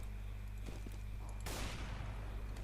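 Counter-Strike: Global Offensive gunfire comes as a faint, brief pop of shots followed by a louder burst of rapid fire that quickly trails off, set over a low background hum.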